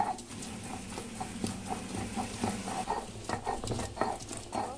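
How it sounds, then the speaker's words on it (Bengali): Ginger, chilli, cashew and tomato are ground into a paste on a stone slab, giving a steady rhythm of close, soft scraping and rubbing strokes that repeat evenly, with no voice over them. "এগুলো শিলে বেটে নিচ্ছি"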